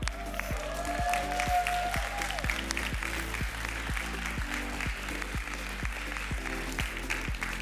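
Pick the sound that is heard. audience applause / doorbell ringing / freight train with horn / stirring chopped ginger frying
audience applause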